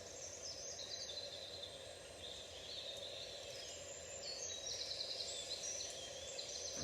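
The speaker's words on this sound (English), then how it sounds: "Just listening to the sounds of the birds." Birds sing outdoors with high chirps and trills scattered over a faint, steady background hum, distant and quiet.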